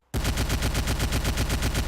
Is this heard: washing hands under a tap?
no